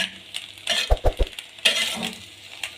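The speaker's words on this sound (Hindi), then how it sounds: "इस तरीके से अच्छे से मिक्स कर लें" A spoon stirs white sauce pasta ingredients together in a pan, with soft scraping and a few sharper clatters against the metal, close and fairly loud with a faint sizzle underneath.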